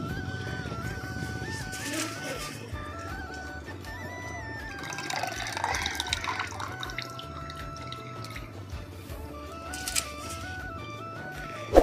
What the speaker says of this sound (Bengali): জল গরম হয়ে গেছে, আমি এখন চালগুলোকে ধুয়ে দিয়ে দিচ্ছি।